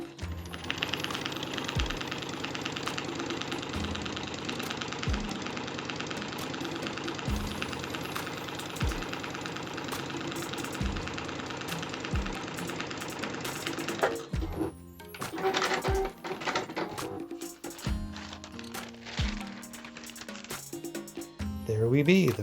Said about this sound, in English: as we guide it through the machine, we just gently push the material against the sewing guide